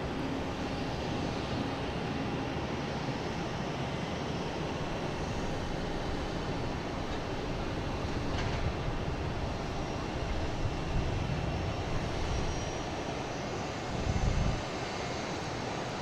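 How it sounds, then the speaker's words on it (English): A United airliner takes off at Boston Logan, a sustained low engine roar mixed with wind buffeting, steady and unbroken with a slight build in the latter half. "we got a United taking off, heading to San Francisco"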